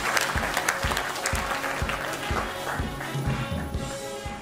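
An audience at a round-table event applauds a company CEO, a full, sustained clapping with distinct individual claps audible near the microphone.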